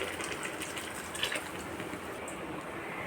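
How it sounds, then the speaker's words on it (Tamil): Coconut milk is poured into a simmering egg curry with egg paniyaram: a steady close liquid rush that holds evenly for a few seconds, with no talk. "தேங்காய் பால் எடுத்து ஊற்றிக்கலாம்"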